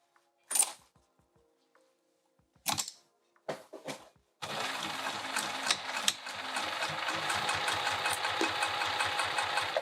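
A sewing machine stitches down a seam on a velveteen boxy pouch, starting after a few short handling clicks and then running in a steady, fast mechanical patter close by.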